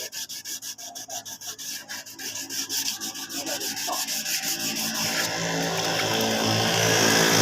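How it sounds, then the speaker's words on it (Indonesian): A motorcycle body panel is rubbed by hand with sandpaper, a rhythmic scratchy back-and-forth rasping that speeds into a continuous, denser scrubbing, close and fairly loud. "kita hanya main gosok saja seperti ini"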